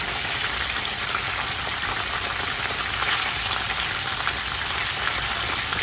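Pieces of pollock fry in a small pot, giving a steady, dense crackling sizzle of oil that holds evenly with no voices.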